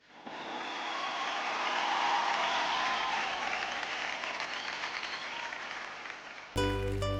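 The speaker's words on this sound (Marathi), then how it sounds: "एकदा क्रेझी डान्स ग्रुपसाठी जोरदार टाळ्या." A television dance-show audience gives sustained applause for the Crazy Dance Group, a swelling wash of clapping that fades slightly and is cut short by a tonal cue at the end.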